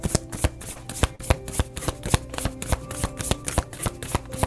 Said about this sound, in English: Let me pull another card.